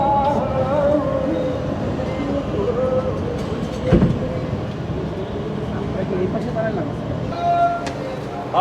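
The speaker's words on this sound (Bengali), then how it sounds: "ট্রেন এসে দাঁড়ালো যমুনা সেতুর পশ্চিম পাশে" A train rumbles steadily along the rails at the west end of the Jamuna rail bridge, arriving and stopping, with clattering and a brief sharp knock midway, while people's voices murmur in the background.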